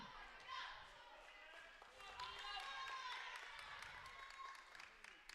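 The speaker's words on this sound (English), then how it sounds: "A little bit of clapping here from the Hartsburg Emden fans" Faint scattered clapping from Hartsburg Emden fans in a high school boys basketball gym, light and distant beneath a commentator's continuous talk.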